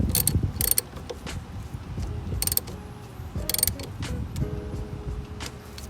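Ratchet with a 10mm socket tightening the battery terminal connectors on a 4th-gen Toyota 4Runner, giving bursts of close mechanical clicking and metallic ratcheting among softer handling noises, with no talking.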